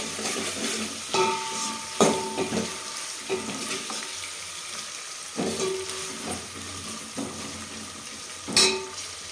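Mustard seeds, cumin and onions frying in hot oil for pumpkin sambar, a steady soft sizzle broken by several stirring scrapes of a spoon in the pan, close by with no talk.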